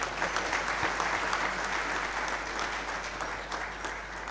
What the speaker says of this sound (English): And I think Ms. Mutambi also deserves a big round of applause.